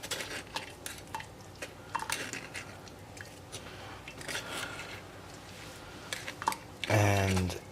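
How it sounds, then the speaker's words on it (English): Blueberries and mint pressed through a strainer with a utensil, giving repeated scraping and clinking strokes against metal at an irregular pace, with a louder rattling burst near the end. "you're going to mash it until there's like nothing in the strainer but the mint and blueberry peel or skin"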